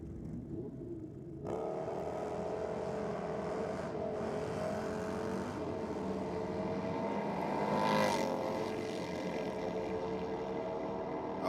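Motorcycles drag racing at Sydney Dragway during a bike night, heard as a steady engine roar from a distance that builds and swells as the bikes run down the strip.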